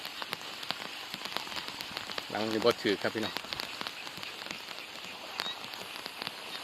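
Rain falling steadily outdoors while fishing lines are checked, a soft continuous patter on surfaces, with someone speaking briefly partway through.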